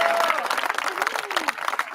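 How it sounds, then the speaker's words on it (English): Audience applause and crowd noise at a live wrestling talk show fills two seconds, dense and continuous, with a voice speaking over it. "So round of applause"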